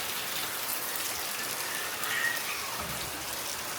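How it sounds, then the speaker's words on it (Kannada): Rain falling outdoors at a kennel, a steady, even hiss of drops on surfaces that continues unbroken, moderately loud and with no talk. "ಮಳೆ ಮಳೆ ಮಳೆ."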